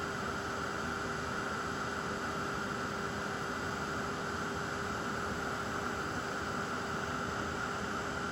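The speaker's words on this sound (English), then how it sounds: "turn our heat tool on, wait just a minute, let it heat up" An electric heat tool switched on and warming up gives a steady, even whirring hiss with a constant hum underneath, holding level and unbroken throughout with no talking.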